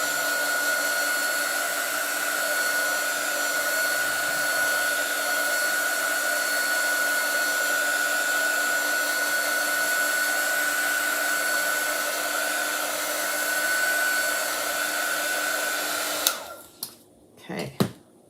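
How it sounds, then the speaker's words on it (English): A handheld heat drying tool blows hot air over chalk paste on a stencil, a loud, steady whine with a constant pitched hum that runs unbroken and then cuts off near the end, followed by a few light clicks. "Now we'll use our quick dry tool and get that dried up."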